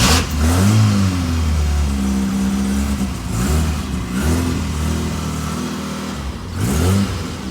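An MG Midget with a newly fitted engine fires up and revs repeatedly, loud and close, each throttle blip rising and falling in pitch over a steady idle.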